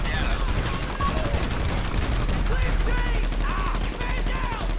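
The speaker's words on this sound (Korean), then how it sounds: "폭발 샷건을 쓰시면 되겠습니다. 자, 그러면 총을 쏩시다." Rapid bursts of explosive shotgun gunfire from a GTA 5 heist raid on a research lab ring out continuously and loudly, dense crackling shots layered with game effects and possible faint voices.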